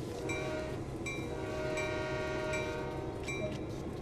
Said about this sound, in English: So we're going to go ahead and two blasts of the horn.